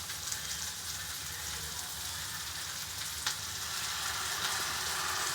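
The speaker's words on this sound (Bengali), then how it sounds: "আমি চিলি সসটা দিয়ে দিচ্ছি।" Chili sauce goes into a hot pan for spicy chili pasta, bringing a steady, fairly quiet sizzle and crackle throughout with one sharp tick near the middle.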